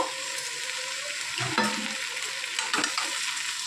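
Potatoes and Bengali amaranth stems fry in a pan for aloo posto, a continuous close sizzle with a few scraping stirs of the spatula breaking through, no one speaking.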